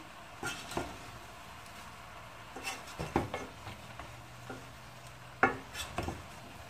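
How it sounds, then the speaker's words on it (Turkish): Leeks being stirred and sautéed in a pot, with scattered scraping and clinking of a spoon against the pot and a soft sizzle underneath, no talking. "Bir daha karıştıracağım"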